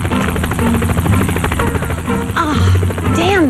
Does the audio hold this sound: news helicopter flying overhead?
yes